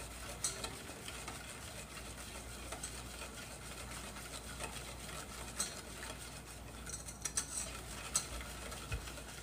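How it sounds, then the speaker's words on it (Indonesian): Eggs and sugar hand-whisked in a bowl for sweet martabak batter, a steady, faint, fast scraping and swishing that runs throughout, with occasional light clinks of the whisk against the bowl. "Kita aduk-aduk sampai merata, sampai telur sama gulanya itu merata halus gitu."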